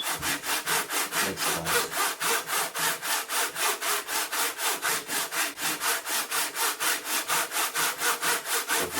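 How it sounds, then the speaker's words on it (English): A hand saw cutting through wood in a steady, fast back-and-forth rhythm of about four strokes a second, loud and close, with a brief remark spoken over it. "You can use any saw with a grip."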